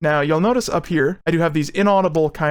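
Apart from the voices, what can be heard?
No everyday noises stand out.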